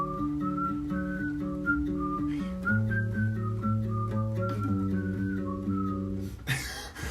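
A person whistles a cheerful Christmas song melody alone, each phrase clear and steady in a close, continuous line that ends with a brief rustle.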